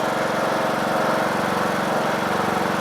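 An old John Deere tractor engine, just jump-started from another tractor's battery and running on old bad oil, idles loud and steady with an even, unbroken putter throughout.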